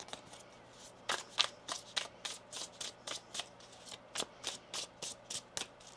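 Tarot cards being shuffled by hand, a rapid run of crisp riffling bursts repeating steadily at close range with no talk.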